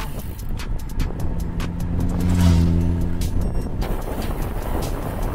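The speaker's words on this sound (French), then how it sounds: "Moto en face" An oncoming motorcycle passes on the road during a group bike ride, its engine tone swelling to a peak and fading within a couple of seconds over steady wind and road noise.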